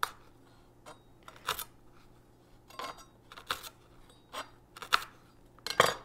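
A knife slices thinly through a lettuce stem on a cutting board, giving a series of short, crisp cuts in an irregular rhythm, close and fairly quiet, with no talking.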